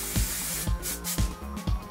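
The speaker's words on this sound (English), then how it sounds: "that's going to kind of spray it into place so it stays upwards" Hairspray hissing from an aerosol can onto back-combed hair, four short close sprays in a steady rhythm, each a bright hiss with a low thump at its start.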